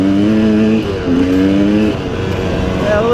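A rebuilt KTM 200 two-stroke motorcycle engine runs close by, holding a steady drone that rises and falls slightly in pitch as it is revved gently, loud and without speech.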